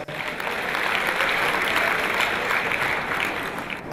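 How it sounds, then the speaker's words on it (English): A live comedy audience breaks into steady, dense applause, clapping evenly for several seconds before tailing off slightly. "When I do well, I better want to clap on myself."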